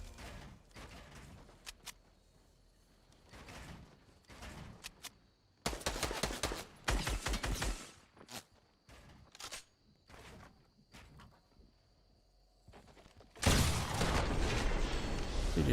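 Combat shotgun blasts in Fortnite come in scattered bursts, sharp loud reports mixed with quick mechanical clicks and footsteps, ending in a dense, noisy flurry of shots.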